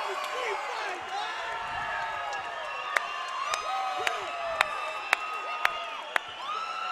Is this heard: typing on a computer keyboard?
no